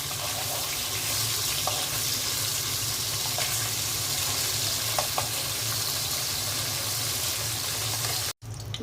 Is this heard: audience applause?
no